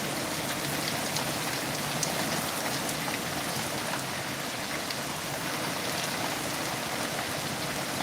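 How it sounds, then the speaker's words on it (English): Steady rain falls in a dense, even hiss of drops spattering on surfaces, close and continuous throughout with no voices. "It is raining. My little cactus is going to drown."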